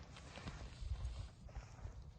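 A mare's hooves clopping on the ground at a steady walking pace, fairly faint, with some background rustle and a low murmur.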